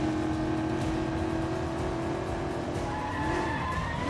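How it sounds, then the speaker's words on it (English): A car drifting in the 007 First Light game, with a continuous loud tire squeal whining over engine roar as the vehicle slides through a pursuit, no talk. "Ooh, look at that drift"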